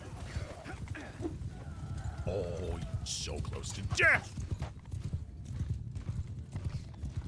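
Battle horses in Mount & Blade II: Bannerlord, with rapid clip-clop hoofbeats running throughout and a whinny or two rising near the middle, mixed with combat noise while a voice speaks over them.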